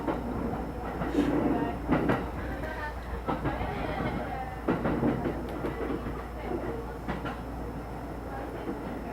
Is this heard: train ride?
yes